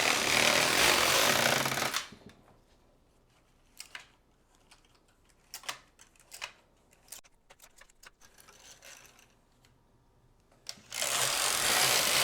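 A knitting machine carriage runs rows for a baby tee, heard as loud sustained sweeping passes at the start and end with quieter clicks and clacks of the mechanism in between.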